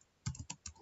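Several quick keystrokes on a computer keyboard while entering router configuration commands, a few soft separate taps close by with no talking.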